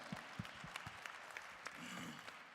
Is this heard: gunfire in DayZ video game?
no